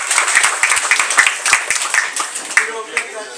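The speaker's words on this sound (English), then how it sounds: "Let's have a round of applause for the lawyers" A small group in a meeting room gives the lawyers a round of applause, with distinct, loosely spaced hand claps fairly close by and some murmuring voices under them.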